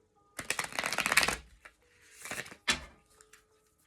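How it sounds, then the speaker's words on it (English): A deck of oracle cards is riffled in a quick, crisp flutter, followed by two shorter shuffling bursts, close up and fairly quiet. "Give us a little shuffle."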